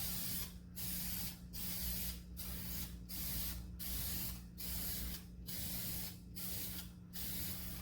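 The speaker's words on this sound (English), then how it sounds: "Try not to get it on anything here, and just kind of spray back and forth." Fast-drying clear coat sprayed onto a violin from a spray can in repeated hissing bursts, about nine evenly spaced passes back and forth with brief gaps, close and steady over a low hum.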